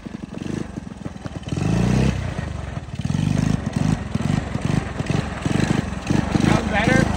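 A 1985 Honda ATC 110 three-wheeler engine running close by, a rough putter that rises and falls as the throttle is blipped, with people talking over it.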